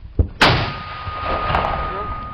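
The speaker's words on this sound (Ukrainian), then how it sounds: "Постріл." A single loud, sharp artillery gun blast in a frontline war setting near Myrnohrad, preceded by a smaller thump and followed by a lingering, roaring echo, with faint voices in the background.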